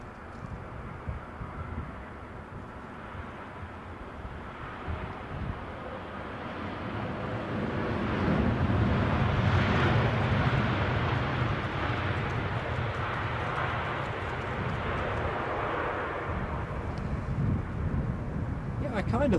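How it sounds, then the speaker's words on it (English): An Air Canada Boeing 787-9 Dreamliner inbound from Vancouver lands at London Heathrow. Its jet roar swells from a distant rumble to a loud, broad wash mid-clip and then lingers, with wind buffeting the microphone and talk running underneath. "7879 Dreamliner inbound from Vancouver"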